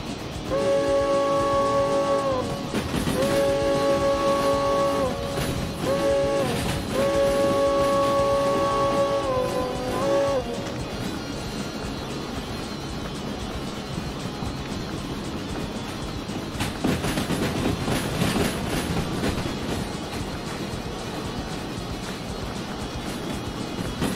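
Steam locomotive in the game Derail Valley, its multi-tone whistle sounding in several long and short blasts over a loud steady chuff and roar of the engine that continues after the whistle stops.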